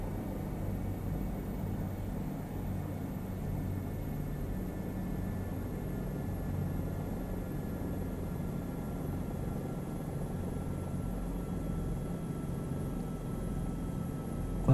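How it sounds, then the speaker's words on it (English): Steady, loud rotor and engine drone from a helicopter in flight that is running out of power, heard from inside the cabin as an unbroken rumbling wash with no talking. "I'm gonna have to put the helicopter down. She's running out of power."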